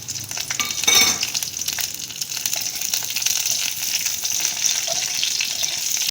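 Black cumin seeds and green chillies crackle in hot oil as a tempering for a thin hilsa fish and potato curry. A steady, close sizzle runs throughout, with a brief louder burst of spitting near the start and no talking.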